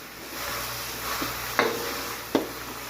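Shrimp sauté in a pan with tomatoes for ginisang upo, a soft steady sizzle underneath two sharp spoon-on-pan clinks of stirring, close and moderately quiet, no talking.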